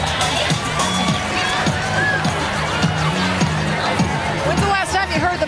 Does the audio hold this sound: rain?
no